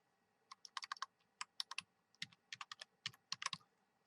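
Quick bursts of keystrokes on a computer keyboard while entering an Excel SUMIF formula, clattering in uneven runs of close, crisp clicks with brief pauses and no talk.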